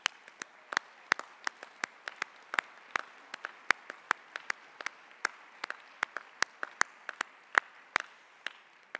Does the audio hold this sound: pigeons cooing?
no